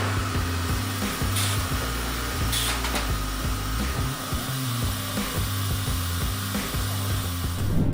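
Automatic wood peeling machines processing logs in a factory, a loud continuous mechanical grinding roar with rumbling low pulses and rasping scrapes, no voices.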